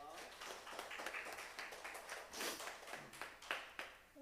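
A church congregation claps during a Sunday worship service, a steady scattered round of applause lasting several seconds with a few sharper claps near the end.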